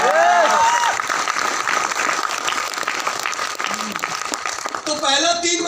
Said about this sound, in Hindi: अरे जोरदार ताली हमारे प्लान के लिए।